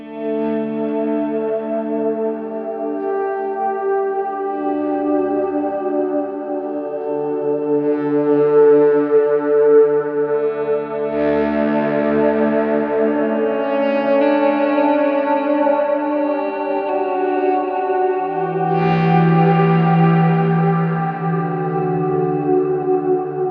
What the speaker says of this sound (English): a really long delay and lush big reverb, and this I'm only using for my swells